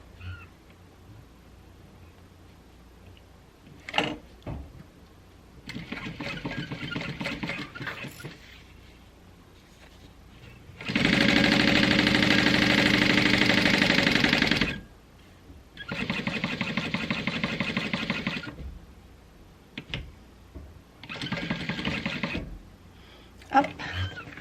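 Juki 1181 sewing machine stitching a Koda bag, running in several bursts, one long steady whir of about four seconds and shorter runs, with quiet pauses and faint talk in between.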